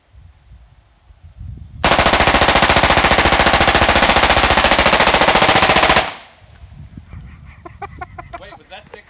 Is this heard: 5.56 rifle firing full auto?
yes